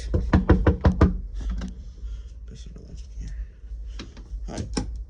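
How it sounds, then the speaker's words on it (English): Several sharp knocks on a bedroom door in a lake house, a quick cluster of raps near the start and a few more later, with faint talking and room noise between them. "Just gotta knock."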